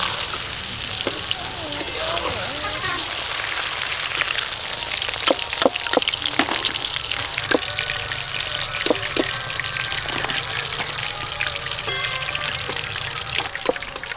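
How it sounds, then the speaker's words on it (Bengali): Chicken pakora, a crispy KFC-style popcorn chicken, frying in hot oil in a home kitchen makes a loud, continuous sizzle with dense crackling and bubbling, and scattered sharp pops and stirring clicks run throughout. "ঠিক ভাজা হওয়া শুরু হয়েছে"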